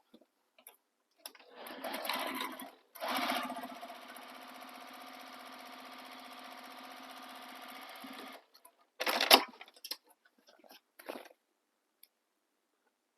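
A sewing machine top stitching a tote bag runs in a short burst, then a steady, even whir for several seconds, followed by a brief final burst and faint handling clicks.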